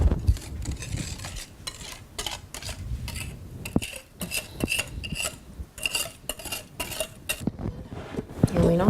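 A utensil stirs and scrapes through a cookie mixture of flour, hazelnuts, chocolate chips, baking powder and salt in a bowl, making steady close clinks and rustling scrapes throughout.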